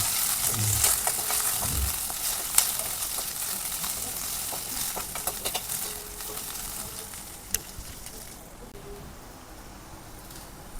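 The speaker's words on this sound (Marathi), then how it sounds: "भेंडी एक मध्यम आचेवर छान 5 ते 6 मिनिटे परतून घेऊया" Okra frying in hot oil in a kadai over medium heat, a steady close sizzle with occasional stirring scrapes, fading slightly toward the end.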